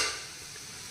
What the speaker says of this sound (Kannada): ಇವಾಗ ಲಿಡ್ ಓಪನ್ ಮಾಡ್ತಾ ಇದ್ದೀನಿ